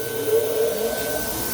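A vacuum cutting table used with an oversized banner draws air in a steady, close, continuous rushing hum with a faint whine, unbroken throughout.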